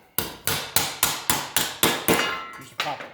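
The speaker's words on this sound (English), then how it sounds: "Use the proper body hammer on it." Ball peen hammer standing in for a body hammer, tapping a car body panel while spot welding. About ten sharp, ringing metallic blows come at a steady rhythm of roughly three per second, loud and close, with no talk.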